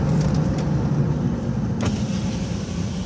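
A pickup truck cruises along after tie rod and brake repair, its engine and road rumble a steady, close drone inside the cab, with a few faint clicks and no talking.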